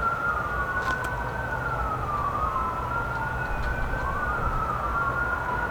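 A police siren wails in long, rising and falling sweeps, holding steady and fairly loud over a constant background rumble, with no voices.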